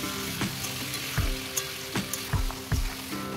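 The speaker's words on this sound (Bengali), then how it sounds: "এবার চিকেনটা খুব ভালো করে কষিয়ে নিচ্ছি" Chicken frying in spices with curd in a pan for bamboo chicken biryani, a steady oily sizzle broken by several close, heavy scraping stirs at irregular intervals, with no talk.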